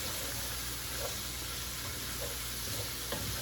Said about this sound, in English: I'm gonna let these mushrooms cook in here for around 5 minutes